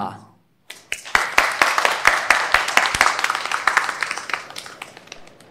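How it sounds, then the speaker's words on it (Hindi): Studio audience claps in welcome for two performers on a Chinese dating show stage, dense rapid clapping swelling after a brief silent gap, then slowly thinning out toward the end. "तालियों से स्वागत कीजिए गुलिन का और ये जियांग का"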